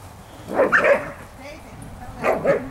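Doodle poodle puppies bark and yip during play in a yard, with two close, lively bursts of barking separated by a short lull.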